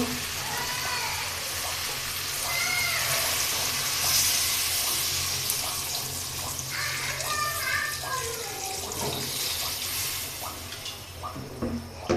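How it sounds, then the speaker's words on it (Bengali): Water poured into a pot of braised meat, splashing and bubbling with a steady hiss and scattered sizzling crackles, continuous and close. "কষানো হয়ে গেছে, জল দিয়ে দিব।"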